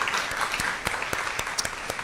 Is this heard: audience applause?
yes